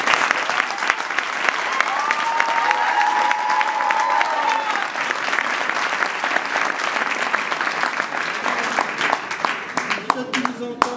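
An audience applauds at an event, with sustained, even clapping from a sizeable crowd and a voice faintly audible underneath partway through.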